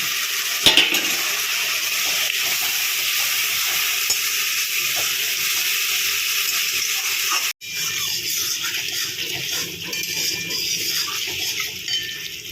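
Egg chilli cooking in hot oil with tomato sauce, a steady loud sizzle and frying hiss throughout, with occasional stirring scrapes and a brief metallic clunk partway through.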